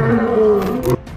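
A lion roars loudly and close at a waterhole in Greater Kruger National Park, South Africa, one deep, sustained, rasping call that cuts off sharply before a quieter tail.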